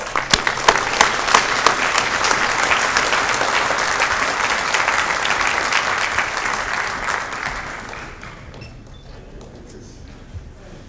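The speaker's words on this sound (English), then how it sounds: "let's give a round of applause" Conference audience at EMBC 2014 applauding the program co-chairs, a steady, dense round of clapping that rings out for about eight seconds, then fades to a few scattered claps.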